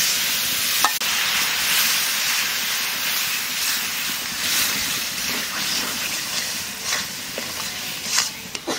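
Chicken masala with potatoes fries in a pan after spiced water is poured in, giving a steady close sizzling hiss broken by light stirring clicks.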